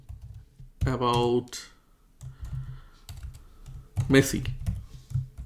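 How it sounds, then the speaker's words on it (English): Someone types a question on a computer keyboard: two quick clusters of clicking keystrokes, close and moderately loud, with a person speaking between and over them. "Let's say I'm typing a question like, tell me"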